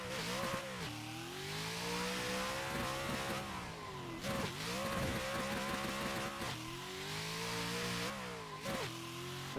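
A car engine in a racing video game revs hard on a shakedown lap, rising through the gears in repeated climbing sweeps with brief drops at each shift, steady and close.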